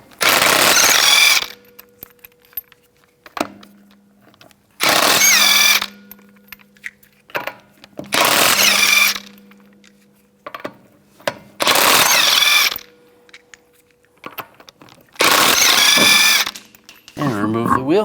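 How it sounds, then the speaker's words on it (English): Power tool fitted with a 19mm socket spins lug nuts off a 1997–2001 Honda CR-V front wheel in five loud whirring bursts separated by quiet gaps with faint clicks, close by. "I'm going to use a 19mm socket, take the lug nuts off."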